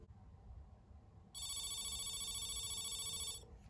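A telephone ringing on an outgoing call placed from a mouse phone, one electronic trilling ring burst of about two seconds, heard quietly through the handset after a stretch of faint background hiss.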